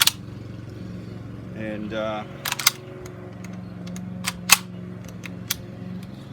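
The straight-pull bolt of a Schmidt Rubin 1889 rifle is worked, giving a series of sharp metallic clacks and clicks with a brief sliding rasp, close and distinct, while a voice speaks in the background.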